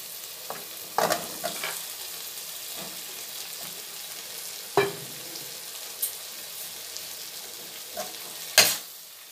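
Fried eggplant being stirred into a tomato-onion masala in a pan: a low steady sizzle broken by several sharp spoon scrapes and clinks at irregular intervals, close by, with no talking.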